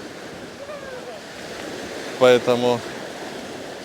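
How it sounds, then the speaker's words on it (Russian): Sea waves washing onto Pattaya beach in Thailand on an overcast day, a steady broad surf hiss throughout, with someone speaking briefly over it near the end. "Самое удивительное, что сегодня волны."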